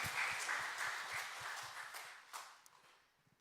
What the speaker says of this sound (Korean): 우리 주님께 영광의 박수 올려드립시다